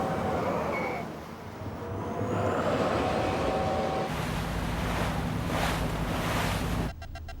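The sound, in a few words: boat engines reversing, waves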